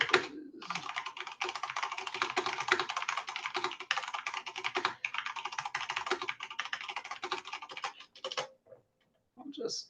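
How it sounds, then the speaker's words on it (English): Steady fast typing on a mechanical computer keyboard, dense clicky keystrokes running nearly continuously for most of the stretch before trailing off into a few isolated taps, with faint voices underneath. "All you mechanical keyboard people. I like people to know that I am typing."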